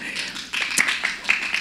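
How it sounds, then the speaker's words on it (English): A church congregation claps during a Sunday service. The clapping is a short, dense patter that fills the room, with a few sharper slaps standing out. "You can clap. You can clap."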